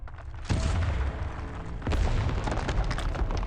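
Cannon fire in the video game Arknights: two heavy booms about a second and a half apart, each followed by a dense rumbling roar with crackling debris, with no voices.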